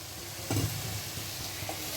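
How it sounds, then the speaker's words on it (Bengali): Boiled potato and green jackfruit go into fried spices and oil in a pan for a prawn dish, making a sudden sizzle followed by a steady frying hiss and a few stirring scrapes, up close with no talking. "এবার আমি আমার সেদ্ধ করে রাখা আলু আর এঁচড়গুলো দিয়ে দেব।"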